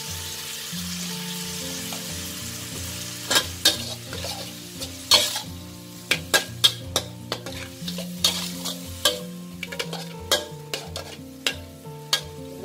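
Green beans stir-fried in a pan with light soy sauce, oyster sauce and sugar, steady sizzling broken by sharp spatula scrapes and clacks that grow frequent in the second half, close and fairly loud.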